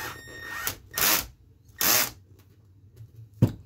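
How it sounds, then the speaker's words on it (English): Two short bursts of a power drill with a 3.0 mm Allen bit whirring while fitting RPM front A-arms to an Arrma Kraton 8S, each under a second, with a faint click near the end; no talking. "I'm gonna use a drill at the moment."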